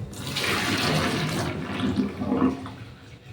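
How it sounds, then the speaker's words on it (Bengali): Cooking water from boiling fish or vegetables being poured out of a pot into a sink, a steady splashing gush that runs loud for about a second and a half, then trails off into softer spatters. "জলটা এবার আমি ফেলে দেবো।"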